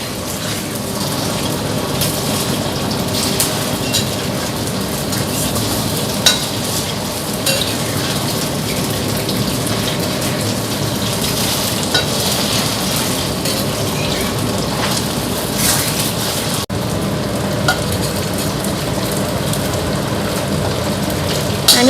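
Steady broadband sizzle of food frying in a pan with a stirring, scraping texture throughout, continuous and fairly loud, with no talk.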